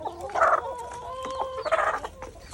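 Chickens cluck and squawk up close in a couple of short bursts, with soft rustling between calls.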